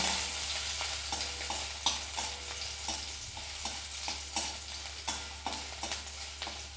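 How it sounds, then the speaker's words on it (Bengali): Crushed garlic fries in hot oil with a steady close sizzle, under a low constant hum and repeated rhythmic clicks of a spatula stirring the pan; no one speaks. "এর মধ্যে এই থেতো রসুনগুলোকে এখানে দিয়ে দেবো দিয়ে এগুলোকে ভালো করে এইভাবে ভালো করে ভেজে নেব"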